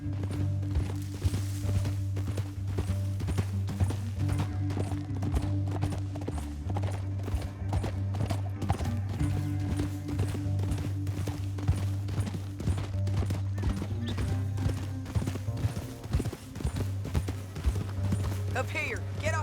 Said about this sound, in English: Up here, get off your horse.